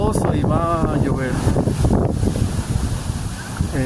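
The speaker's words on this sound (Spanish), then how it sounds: "Está ventoso y va a llover." Wind gusting along a city street in the Bronx on a windy day, a steady close rush against the microphone under a person talking, with general street ambience.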